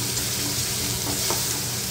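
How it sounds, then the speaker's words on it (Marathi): Chopped green chili, garlic, cumin and ginger tempering in hot oil for baingan bharta, a continuous close sizzle with light stirring scrapes and no talking. "हे बारीक केलेली हिरवी मिरची, लसूण, जिरं, आलं हे फोडणीला टाकते आधी।"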